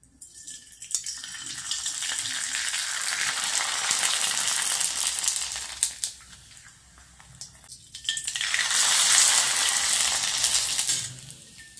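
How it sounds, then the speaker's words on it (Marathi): Small homemade sago (sabudana) papads fry in a shallow layer of hot oil, sustained steady crackling sizzle in two long bursts with a short quieter gap between, close and alone with no talk. "चला आता हे पापड आपण तळून घेऊयात"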